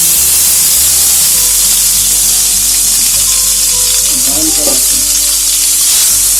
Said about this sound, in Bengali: এই যে প্যানে দেখতে পাচ্ছেন তেল দিয়ে দিয়েছি অল্প পরিমাণ। এখন ডিমগুলো দিয়ে দিচ্ছি।